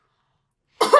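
After near silence, a person gives a single short, close cough.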